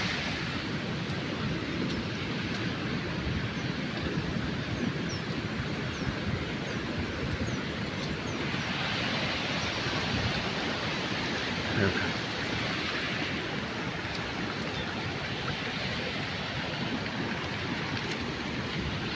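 Floodwater rushing down from the hills after heavy rain, a loud, continuous broadband roar of churning water that holds steady throughout, with no clear voices over it.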